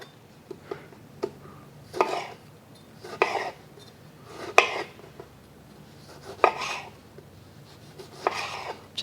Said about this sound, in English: And the larger tomatoes, you can just cut them up